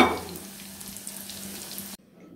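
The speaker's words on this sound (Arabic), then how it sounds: "وغندير الاخرين حتى هما في المقله." Dough pieces frying in oil in a frying pan give a continuous close sizzle that ends abruptly, leaving near silence.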